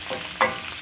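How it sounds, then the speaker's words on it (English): Raw shrimp tumble into a pan of seafood dressing made with crawfish, then get stirred, a brief soft splat followed by low scraping and faint sizzle close by. "Alright, in goes the shrimp."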